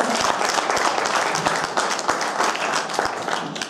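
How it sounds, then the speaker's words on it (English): Audience at a boxing press conference bursts into dense, sustained applause, many hands clapping close and loud for several seconds. "Big round of applause."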